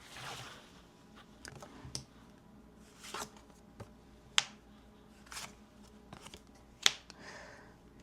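Tarot cards are handled quietly and close up, with soft rustles of shuffling and a few sharp, isolated snaps and flicks as cards are drawn and laid down, spaced irregularly with no talking.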